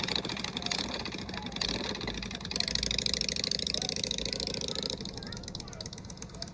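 Yamaha VStar motorcycle engine at low throttle while the rider drags the rear brake through slow, tight maneuvers, a quiet, low, even idle-like rumble with wind noise and no clear revving.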